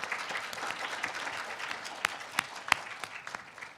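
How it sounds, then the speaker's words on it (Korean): Audience at a talk event applauding to welcome a speaker to the stage, a steady wash of many hands clapping with a few sharper claps standing out near the end. "큰 박수로 맞이해 주시기 바랍니다"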